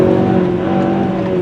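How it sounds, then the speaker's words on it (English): A Ford Escape compact SUV in sport mode pulls hard under throttle on twisty roads, with a loud, steady engine drone and a strong low hum heard from inside the cabin, unbroken across a brief stretch. "Wow, let's hear how the engine sounds."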